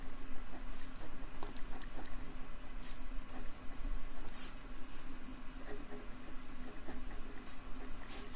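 Pen scratching across paper close to the microphone in a quiet ASMR recording, with soft continuous strokes and scattered sharper ticks over a low steady hum, no voices.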